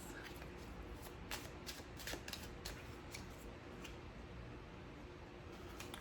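Soft, rapid riffling of a deck of tarot cards in quick bursts, close by, over a steady low background hum.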